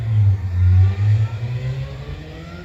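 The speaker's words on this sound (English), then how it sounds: "That sound you just heard is a Corvette." A Corvette engine revs loudly nearby with a deep, throaty rumble, then fades as it pulls away into the distance.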